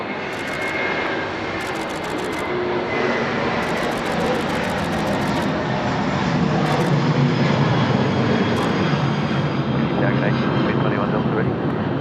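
A fixed-wing airliner lands at Sydney Airport, its jet engine roar loud and steady throughout, building slightly near the end. Radio chatter from air traffic control runs over it in bursts.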